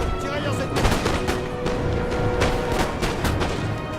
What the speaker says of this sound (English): with the force of fire from both Voltigears and Fusiliers line, their numbers are dropping quickly